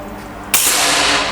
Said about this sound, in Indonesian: kita akan coba untuk tembakan kedua